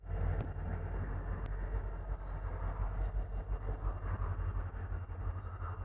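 A train rumbles past close by, a continuous heavy roar of wheels on rails with occasional metallic clanks and squeaks.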